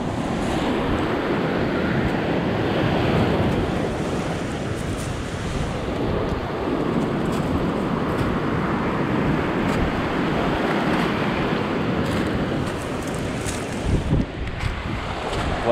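Waves wash onto a sea glass beach with a continuous close roar of surf mixed with heavy wind buffeting, steady and loud throughout with no voices.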